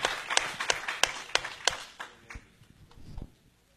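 Church congregation clapping, a sharp run of strong, evenly spaced claps about three per second near at hand, thinning into softer, scattered claps that die away.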